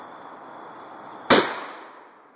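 A shotgun fires a single normal slug outdoors, one sharp loud report that decays into a rolling echo after a quiet lead-in.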